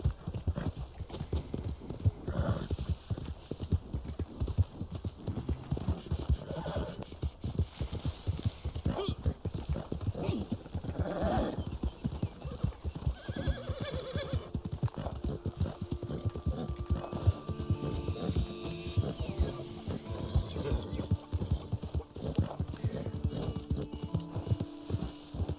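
Horse hooves clip-clopping steadily in the video game Red Dead Online, continuous rhythmic hoofbeats throughout with an occasional whinny and a player talking over them.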